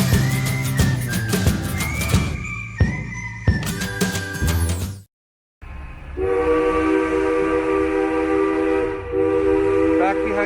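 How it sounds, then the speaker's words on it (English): A Durango to Silverton narrow gauge railroad train in Colorado, with loud sustained whistle or horn blasts and rolling rail noise, a short break of silence midway, then a steady rumbling run with a long tonal whistle blast over it. "we ride the Durango to Silverton narrow gauge railroad"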